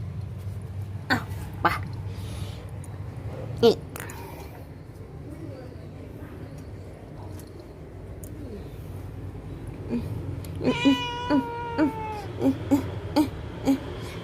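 A few short meows and whimpering cries, soft at first, then a rising harmonic meow near the end, amid faint clicks and background hum.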